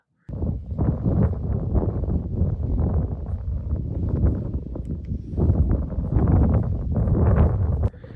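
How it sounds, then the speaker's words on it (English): Strong, cold wind buffets the microphone outdoors in Pennsylvania in a continuous low rumble that gusts and surges, starting abruptly and cutting off near the end. "it's windy and it's cold"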